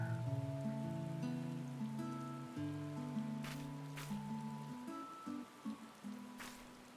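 Steady rain in a Final Fantasy XIV video game cutscene, a soft continuous patter running beneath sustained musical chords, with no voices.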